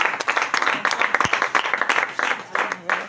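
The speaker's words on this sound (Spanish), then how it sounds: "Denle un aplauso a Dios." Church congregation clapping together, a short burst of dense, even applause in a room, with a little talk mixed in.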